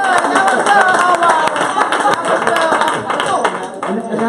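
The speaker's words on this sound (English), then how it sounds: "I need more claps for this" Audience applause at a talk event on understanding men, dense clapping running steadily throughout and fairly loud, with some voices mixed in beneath.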